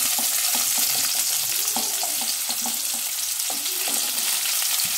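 Chopped onion sizzles in hot oil with ginger while being stirred for a lentil and egg tarka, a dense close crackle punctuated by scraping and spatula knocks against the pan, no speech.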